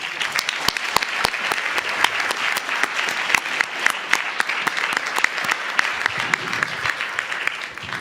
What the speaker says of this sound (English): Mrs. Rogers, please join me in one more round of applause for all of them